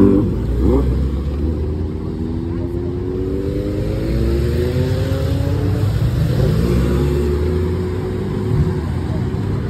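A group of superbikes rides off, engines rumbling and revving up in rising sweeps that fade as they pull away, with a crowd murmuring nearby.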